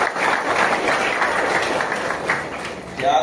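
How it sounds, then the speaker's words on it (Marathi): Crowd applause at an award ceremony and CCTV camera inauguration, a broad continuous clapping that rises and dips slightly and swells again near the end. "एकदा जोरदार टाळ्या वाजवा वीर कल्पेश ठाकूरच्या"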